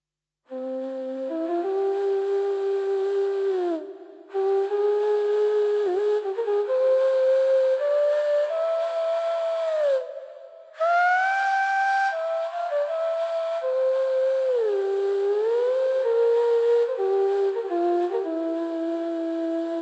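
A shakuhachi sample reshaped in SampleTank 2 software plays a breathy, flute-like melody of long sliding notes with bends, loud and alone, broken by two brief gaps.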